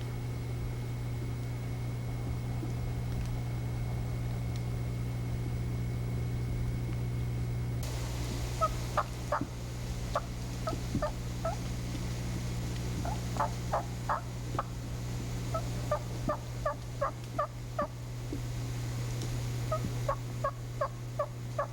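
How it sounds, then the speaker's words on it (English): A wild turkey hen gives soft tree yelps, short repeated notes in loose clusters. They start partway through and continue over a steady low background hum. "Note that the soft yelp or tree yelp can be given at any time of the day."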